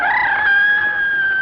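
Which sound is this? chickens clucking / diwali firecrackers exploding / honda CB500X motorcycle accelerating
chickens clucking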